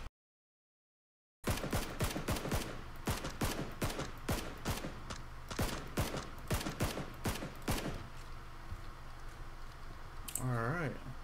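Rapid gunfire from the battle royale game PUBG during a duos match: a dense run of sharp, evenly spaced shots after a second of silence, fading out near the end while a voice murmurs briefly.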